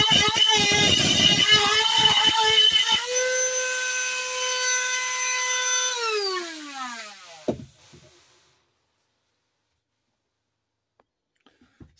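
A power tool grinds a slit into a high-security locking wheel nut, a loud steady whine that winds down as the motor slows and stops, followed by near silence with a couple of faint ticks.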